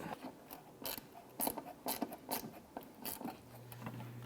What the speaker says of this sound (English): I'm going to use our 10mm socket and ratchet here to go ahead and remove the lower nuts off the mounting bracket for the taillight